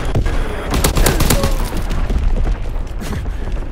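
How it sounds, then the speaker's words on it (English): Dense rapid gunfire and booming explosions from a multiplayer shooter video game match with an Azon bomb drop, a loud cluttered barrage of shots and impacts continuing throughout. "Firing on target. Dropping Azon bomb."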